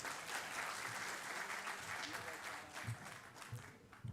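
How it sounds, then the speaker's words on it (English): An audience applauds steadily at an Engineers Day celebration in a hall, a broad wash of clapping that fills the whole stretch, faint and distant in level. "Please welcome him with a round of applause."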